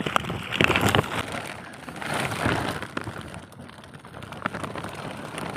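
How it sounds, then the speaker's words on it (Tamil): Steady rain falls outside a boat at sea, a dense, even patter with gusty wind noise that swells and eases over a few seconds, with no voices. "மழை பெய்யுது இப்போ வெளியில்"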